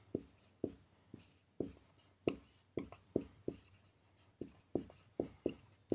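Chalk or marker tapping and scratching on a board while writing, a quick irregular series of soft close strokes and taps with no talk over them.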